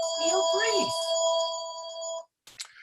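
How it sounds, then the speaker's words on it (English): A telephone rings in the background with a steady electronic trill that stops after about two seconds. Voices speak over the start of the ringing. "Sorry about the ringing in the background."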